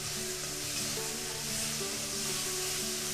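Spices with turmeric and salt frying in a pan for palak paneer, a dense, constant sizzle with a spoon stirring through it.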